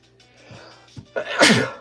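A single loud sneeze bursts out near the end in a card shop, preceded by a few faint breathy intakes.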